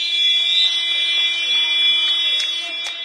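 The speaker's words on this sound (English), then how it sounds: "There the buzzer sounds then to signal the end of the first period of 20" A futsal match buzzer at the University of York marks the end of the first 20-minute period, sounding as one loud, steady, electronic tone that fills the whole stretch over faint arena background.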